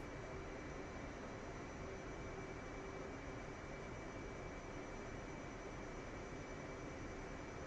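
Steady, dense engine roar of an F/A-18 Hornet jet taxiing along a runway in the DCS flight simulator, an unbroken even drone with a faint high whine and no talk.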